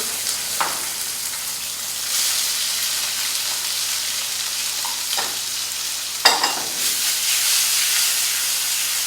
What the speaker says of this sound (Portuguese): A gente vai deixar ele refogar para que esse tomate murche.